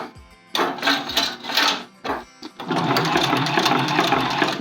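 Sewing machine stitching fabric, a few short stop-start bursts of needle chatter and then a steady continuous run, loud and close.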